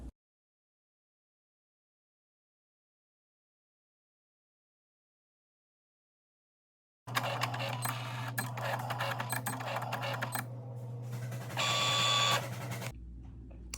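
A Cricut cutting machine making a card starts up after seven seconds of silence and runs as a close, steady mechanical whir with shifting motor and carriage noises for about six seconds.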